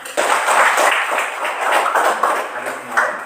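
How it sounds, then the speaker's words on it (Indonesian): Students in a classroom applaud together in a lively burst of many hands clapping, close and fairly loud, lasting a few seconds. "Oke, tepuk tangan."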